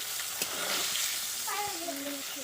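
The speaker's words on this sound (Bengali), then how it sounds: "তো উচ্ছেগুলো আমি ভেজে নিচ্ছি" Bitter gourd slices fry in oil over a clay stove, giving a steady broadband sizzle throughout, with a faint voice tone rising briefly toward the end.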